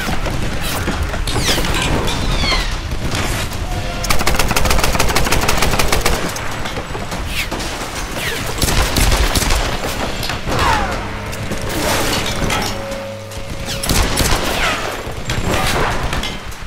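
Enemy machine gun fire in the video game Tomb Raider: a dense, loud, continuous hail of rapid gunshots and crashing booms that carries through the whole stretch with no letup and no talking.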